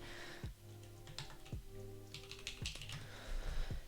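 Typing on a computer keyboard while a Bakeneko 65 mechanical keyboard is being built: faint, quick key clicks in irregular bursts under a quiet tonal background.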